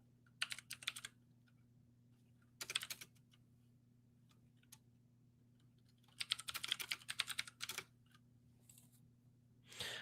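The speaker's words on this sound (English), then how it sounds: "You guys enjoying the sounds of my keyboard or what?" Bursts of computer keyboard typing during a live stream, rapid clicking keystrokes in several clusters separated by pauses, with a low steady hum underneath.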